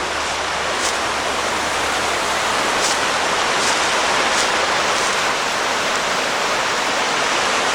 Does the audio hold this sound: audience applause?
no